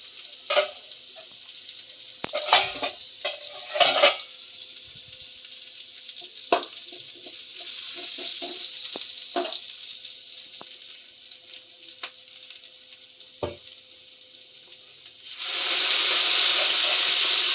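Chopped onion, tomato, chili and potato fry together with prawns in a pan, giving a steady close sizzle with scattered stirring clinks and pops, rising to a loud hiss near the end.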